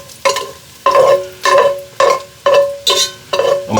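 Bacon pieces frying in a pan and stirred with a slotted spoon: loud, regular scraping strokes about twice a second, each with a burst of sizzle, close and alone.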